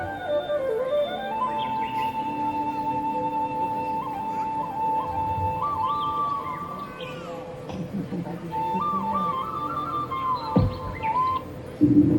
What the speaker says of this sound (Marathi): हा पक्ष्यांचा आवाज